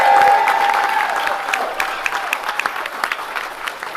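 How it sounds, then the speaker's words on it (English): A crowd at a New York City mayoral concession speech claps and cheers, a steady wash of applause with a tone ringing briefly at the start and scattered claps standing out as it continues. "I think we should give a special round of applause to all the Guardian Angels"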